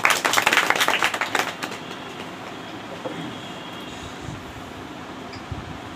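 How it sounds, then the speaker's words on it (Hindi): A crowd at a Samajwadi Party teachers' gathering in Shahjahanpur claps to welcome a newly chosen block president, a dense burst of applause lasting about a second and a half before thinning into quiet room noise. "सभी लोग भाई ताली बजा के इनका स्वागत कर दीजिए"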